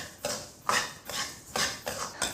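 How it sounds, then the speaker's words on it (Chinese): Rice and glutinous rice dry-stirred in a wok, the spatula scraping and clinking against the metal in four or five rhythmic strokes, close and fairly quiet, with no talking. "下锅先给它炒一下。"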